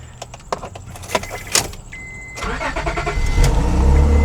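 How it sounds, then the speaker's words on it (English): A 2003 Honda Pilot starts up after a few key and door clicks, the starter catching and the engine settling into a steady, fairly loud idle close by. "We're gonna start the car up."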